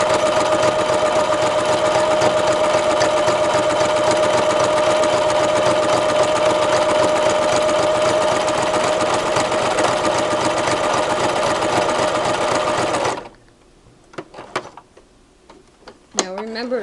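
A Brother sewing machine stitches steadily with its thread tension set to 1, a loud continuous mechanical whir running for about thirteen seconds before stopping, followed by a few faint clicks and handling sounds.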